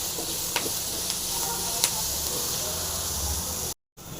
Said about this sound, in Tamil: இதையும் போட்டு நல்லா வந்து ஃப்ரை பண்ணிக்கலாம்